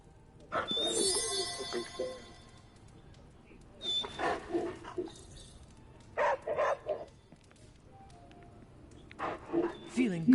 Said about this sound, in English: Pet this dog.